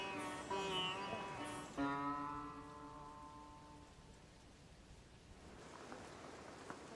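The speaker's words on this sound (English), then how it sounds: "It's still pouring with rain." Heavy rain pours down on a Sherpa village in the Everest region as a steady hiss that settles in after some brief tonal sounds at the start and continues evenly to the end.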